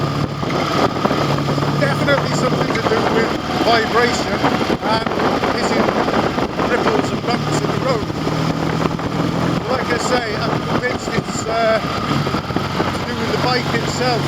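A Norton 650 Unified Twin prototype motorcycle with new wheel bearings is ridden on a test route. Its engine drones steadily with a vibration-related noise under heavy wind buffeting, and it stays close and loud throughout.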